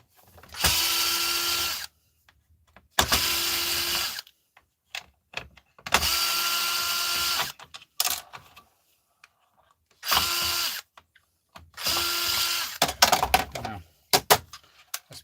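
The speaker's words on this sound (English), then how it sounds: "let's just drill going here and quicken up the job" A power drill driving screws whirs in four or five short bursts separated by pauses, with faint clicks and handling noises in between.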